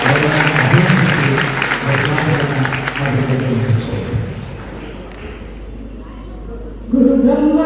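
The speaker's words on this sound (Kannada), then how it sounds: "ಜೋರಾದ ಚಪ್ಪಾಳೆ ಮೂಲಕ ಅವರನ್ನ ಅಭಿನಂದಿಸಿ" Loud crowd applause honouring a woman recognised for her work in education at a gathering in Koppal, dense at first with voices mixed in, then thinning out before someone begins speaking.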